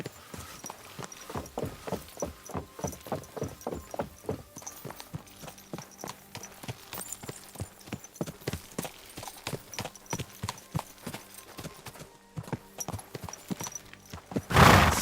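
Horse hooves clip-clopping in the video game Kingdom Come: Deliverance II, a mare walking in an even rhythmic run of sharp hoof strikes, close, with a brief loud noise at the end.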